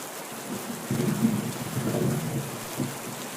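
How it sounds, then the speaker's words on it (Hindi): Heavy rain pours steadily with low rumbles of thunder rolling underneath, a dense continuous wash of a storm darkening the sky over a forest, with no voices. "एक दिन आसमान में काले बादल घिर आए और तेज बारिश शुरू हो गई।"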